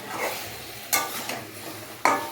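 Meat is stirred and browned in a pan, with two sharp spoon scrapes against the metal over a low, soft sizzle.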